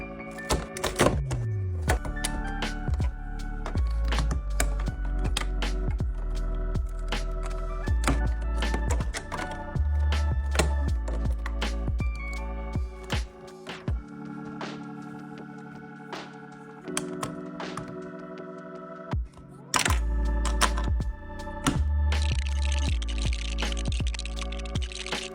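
Lego bricks are handled, clicked together and shuffled while an apocalypse-style burger restaurant is built, a dense run of close plastic clacks, taps and rummaging thuds with no talking.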